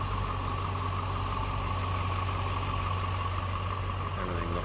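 A stock 2003 Chevrolet Corvette 50th Anniversary convertible idles smoothly with a steady, even low engine hum and no talk.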